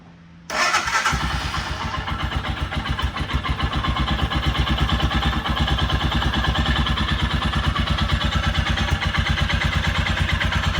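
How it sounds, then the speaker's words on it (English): A Royal Enfield Himalayan single-cylinder motorcycle starts after a brief quiet moment, then settles into a loud, close, steady thumping idle that continues to the end. "We'll start it up and let you listen to the engine."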